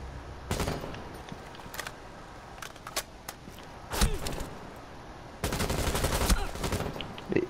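Video game gunfire comes in scattered bursts, a few sharp single shots and short rapid volleys, the longest near the end, fairly close with quiet gaps between.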